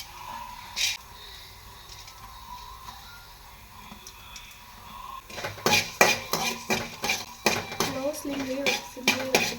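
Coriander seeds and other masala spices dry-roasting in a pan for mutton sukka, with repeated close metallic scraping and stirring clatter that starts partway through after a quieter stretch.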